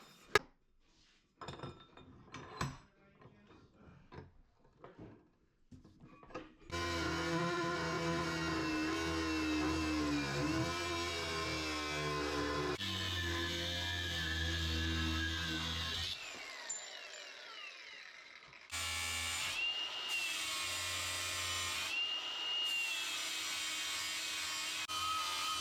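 A metal knife blank clamped in a vise is cut with a power tool. After some light clattering, a loud, steady grinding whine runs for about nine seconds, stops briefly, then starts again and continues to the end.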